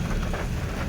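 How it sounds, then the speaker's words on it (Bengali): Heavy rain pours down in a dense, steady roar, close and loud, with a deep low rumble underneath and no break for the whole moment. "ঝমঝম করে বৃষ্টি পড়ছে"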